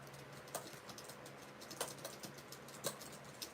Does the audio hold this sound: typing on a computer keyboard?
yes